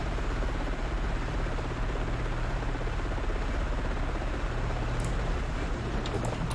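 Inside a Chinook helicopter on a video game map, the engine and rotors drone steadily and loudly with a constant thudding rumble throughout, alone without talk.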